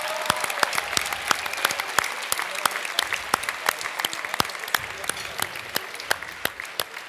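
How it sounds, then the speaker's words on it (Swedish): Audience applause at the Årets Kock 2013 cooking competition final in Stockholm, with steady, close, dense clapping running throughout and sharp individual claps standing out. "vi alla här inne kan ge Leo Frodell en varm applåd för dagens insats"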